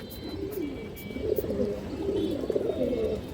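Pigeons coo in repeated soft, throaty rolling calls close by, with faint chirps and background noise.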